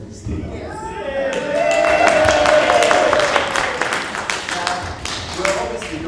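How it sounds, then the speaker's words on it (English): A theatre audience applauding and cheering for a guest, dense clapping that swells to a sustained peak and then tapers, with a voice rising over the crowd. "I can tell from the applause and cheers that you've got a few fans out in the audience tonight"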